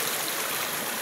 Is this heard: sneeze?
no